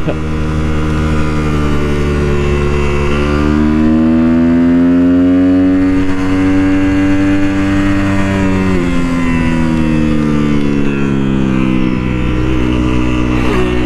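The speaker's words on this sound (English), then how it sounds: "I'm waiting for him to get a flyby for sure" A sportbike ridden by a motocross rider on its first sportbike outing sweeps past with a loud, steady engine whine whose pitch climbs and shifts over several seconds, dominating the scene without any talk.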